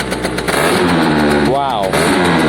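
A Piaggio 100cc two-stroke scooter engine catches and runs loudly and close, holding a steady buzzing idle with a quick rising rev in the middle.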